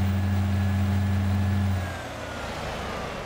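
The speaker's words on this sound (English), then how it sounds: "Can't even hear the horn, the truck is so loud." A loud truck engine drones steadily in Euro Truck Simulator 2, a deep constant hum that drops to a lower, rougher rumble partway through, with no talking.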